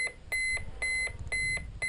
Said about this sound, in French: c'est quoi cette sonnerie là?